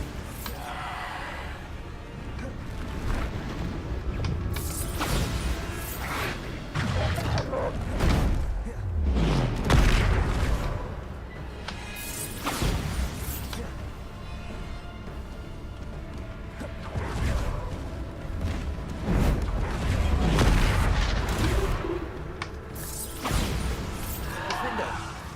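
Repeated Bombarda blasting-spell explosions in the video game Hogwarts Legacy, loud booming crashes recurring every few seconds over a dense battle din, with a voice speaking between blasts.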